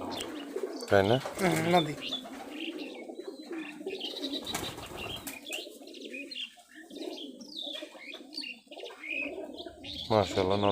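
Several high-flyer Giribaj pigeons coo close by in low, throaty bursts, with scattered chirps and a brief flutter between calls.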